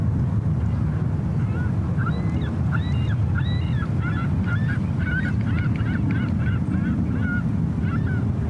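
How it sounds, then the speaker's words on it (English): Geese honking near an airport, repeated calls at moderate distance in a busy run of overlapping honks over constant low wind rumble. "Birds are making all kinds of noise here today."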